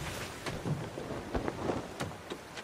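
A stormy sea in the pirate game Sea of Thieves: steady rain with gusting wind and several sharp cracks and rumbles of thunder, moderately loud and without speech.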